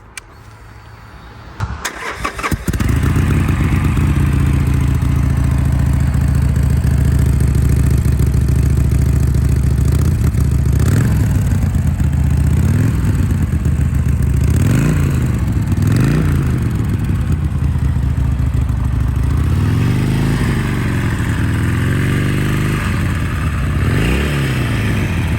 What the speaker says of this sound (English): this is what the bike sounds like when you start it up